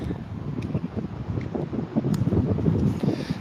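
Gusty wind by a riverbank buffets the microphone in low rumbling surges, steady and fairly loud, with no voices.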